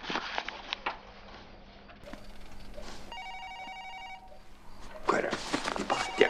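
A telephone rings indoors with a short burst of steady electronic tones, set against household rustling and footsteps that grow louder afterward.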